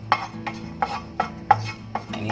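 Small dried shrimp dry-roasting in a pan, stirred in a steady rhythm: about six scraping, rattling strokes of a utensil against the pan over a low, constant background hum.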